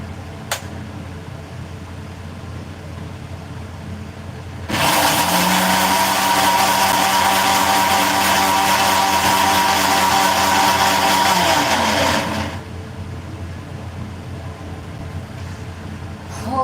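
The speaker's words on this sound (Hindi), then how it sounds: "थोड़ी और लगेगा, क्योंकि ऐसे ही दर्रा दर्रा हुआ है, सारे अच्छे से पीसना है।" A mixer grinder grinding rice, switched on for about eight seconds as a loud, steady whirring roar that starts and stops abruptly against a quiet room.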